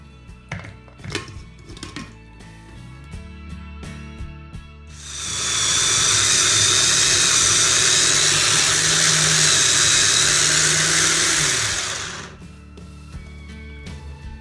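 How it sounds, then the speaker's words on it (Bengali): An electric blender whirs loudly for about seven seconds, mashing hilsa fish, ramping up and then cutting off, with light kitchen clatter and handling noises before and after. "ব্লেন্ড করব"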